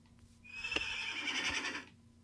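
One horse in Minecraft lets out a bright, shrill whinny lasting over a second, rising then trailing off, clear and close with no talk over it.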